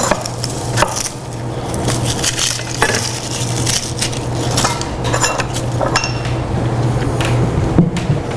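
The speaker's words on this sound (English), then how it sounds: "give that a little chop" A sharp kitchen knife chops on a board in a few separate, clear knocks spread irregularly over several seconds against a low steady hum.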